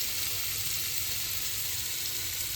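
Paneer cubes sizzling in a pan over a low flame, a steady, even hiss of hot oil throughout with no talking.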